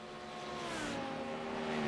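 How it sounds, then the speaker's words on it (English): A train of sim race cars at Monza roars past in a close pack, with a loud, steady engine drone and whining gear tones shifting pitch, and no talk. "And we see this train of cars here."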